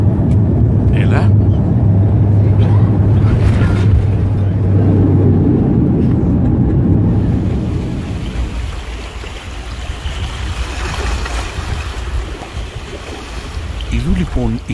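A passenger airplane lands at Mykonos in winter. A loud, steady cabin rumble roars for about half the time, then drops into a quieter, rougher rolling noise that swells again at the end.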